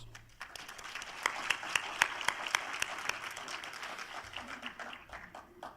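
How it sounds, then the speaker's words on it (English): Faint applause from an alumni event audience in Dubai honoring the association committee, a steady patter of clapping with some sharper nearby claps that lasts several seconds and tapers off gradually. "this association committee deserves a very big round of applause"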